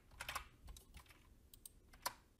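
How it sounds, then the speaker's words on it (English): Computer keyboard typing, a quiet run of irregular close key clicks and taps spread over a couple of seconds with no talking. "For example, I can type in hi."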